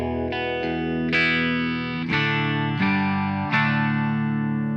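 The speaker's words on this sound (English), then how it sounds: "So this is my Boss BD2 now, maxed." An electric guitar played through a Boss BD-2 overdrive pedal with the gain maxed on an amp's clean channel gives loud, saturated sustained chords, struck about six times in a slow, even sequence with no speech.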